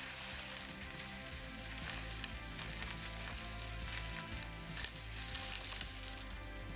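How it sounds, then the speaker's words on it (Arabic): Diced onion sizzles in olive oil in a cooking pot, a steady close-up crackling hiss with scattered sharp pops and a faint stirring scrape. "نعمل هون عندي شوي من زيت الزيتون، وراح نحط البصلة على طول"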